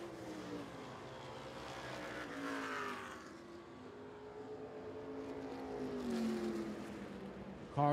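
Street stock race cars in a heat race at Smoky Mountain Speedway, engines droning and rising as cars pass, faint and somewhat distant, with brief speech near the end.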